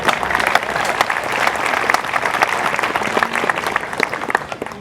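Outdoor crowd applause at a Memorial Day parade ceremony in Beverly, Massachusetts: sustained clapping from a gathered crowd, fairly loud and even, with scattered sharper claps and faint crowd murmur beneath.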